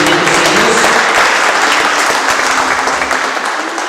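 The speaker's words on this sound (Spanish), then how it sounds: "Den un aplauso al Señor." Congregation applauding the Lord during a Spanish-language church service, loud, sustained clapping from many people that gradually fades toward the end.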